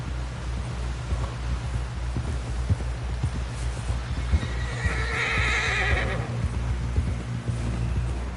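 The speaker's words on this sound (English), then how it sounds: "Someone help John down off this horse." In Red Dead Redemption 2, a horse whinnies over steady clip-clopping hooves, with a low rumbling background throughout; no voices.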